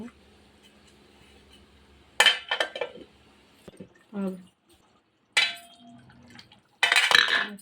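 Fish curry simmering in a pot is stirred gently, giving a few separated bursts of clinking and scraping against the pot between quiet stretches.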